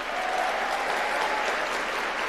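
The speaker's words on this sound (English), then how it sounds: "A round of applause for that." A large audience at a Turning Point summit applauds in a dense, steady roar of clapping, loud and continuous throughout, with no voices rising above it.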